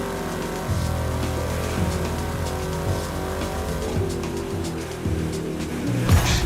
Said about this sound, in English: That engine though definitely sounds like a Mustang.